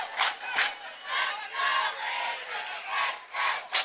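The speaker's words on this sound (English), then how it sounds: "A Let's Go Raiders chant is broken out here at Carl Engel Field" A high school football crowd at Carl Engel Field, Riverdale High School, chants "Let's Go Raiders" in repeated rhythmic bursts that echo around the stadium, heard at a moderate distance.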